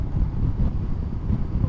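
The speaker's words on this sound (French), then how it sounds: "il y a pas mal de vent" Steady wind buffeting the microphone while riding a Suzuki 800DE motorcycle on the road, a loud low rushing roar with gusty swells throughout, no clear voices over it.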